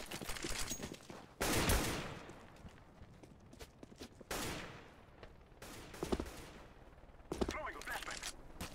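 Bursts of automatic gunfire and single shots ring out in a Counter-Strike: Global Offensive competitive match, loud volleys separated by quieter stretches with scattered footsteps.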